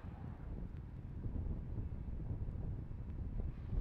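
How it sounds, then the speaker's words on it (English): Gusty wind at a SpaceX Falcon 9 rocket launch site rumbles steadily against the microphone as a low, continuous buffeting noise, with no voices. "So it continues to be quite blustery here."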